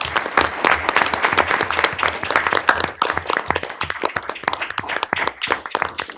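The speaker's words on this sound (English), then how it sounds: "I want to take a moment again to applaud the appreciation and recognition of Veterans Day to our veterans." Audience applause for veterans at a school board meeting, close and loud, with distinct individual claps in an uneven, lively rhythm that continues for about six seconds.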